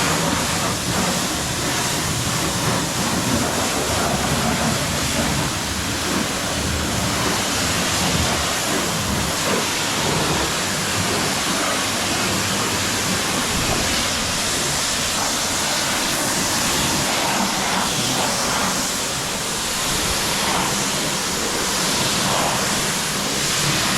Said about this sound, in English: Literally just spraying some water on.